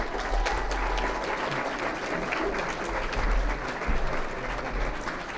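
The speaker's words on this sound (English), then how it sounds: "Round of applause for Mark." Audience at the Sheffield City Region Apprenticeship Awards 2021 ceremony claps in sustained, dense applause, loud and even for several seconds with a few whoops.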